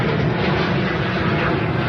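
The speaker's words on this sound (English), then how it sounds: "There goes an airplane right there" Airplane flying overhead near Orange County: a steady, broad engine roar, loud and close, holding an even level throughout with no speech.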